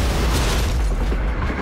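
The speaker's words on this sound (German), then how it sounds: "Vor einer Stunde ist im Kreml eine Bombe hochgegangen." A bomb blast inside the Kremlin, rendered as a movie trailer effect: a loud, dense, rumbling explosion that fills the whole moment and tails off slightly at the end.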